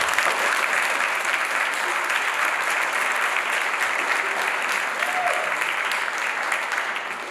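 A crowd at a university MLK event applauds steadily and fairly distantly, the clapping holding a dense, even wash throughout before fading slightly at the end.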